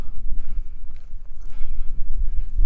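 Donkeys walk on the road at Sitgreaves Pass, their hooves clip-clopping in an irregular, close, steady patter with no talk over it.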